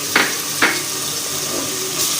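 Ginger garlic paste dropped into lightly browned onions in a pan gives a steady sizzle, with two short sharp hisses near the start and a soft frying crackle continuing underneath.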